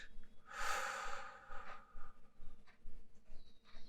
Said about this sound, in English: I'm going to breathe in, which is the motion of allowing. And then we're going to breathe out